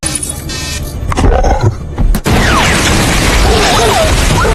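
A loud, rumbling explosion of a spaceship bursts in, then a dense roar of crackling debris and hissing fire keeps going, with a brief voice early on.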